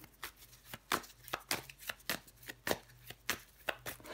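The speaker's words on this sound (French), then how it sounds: "Je vais recouvrir des cartes." Tarot cards being shuffled and laid out, a run of sharp, close papery slaps and riffles that come in a quick, uneven rhythm with no talk.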